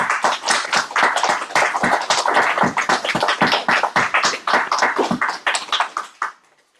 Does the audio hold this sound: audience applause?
yes